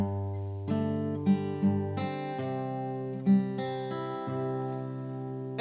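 Fingerstyle guitar picks out a slow progression of plucked notes and chords, each ringing into the next, played alone and close.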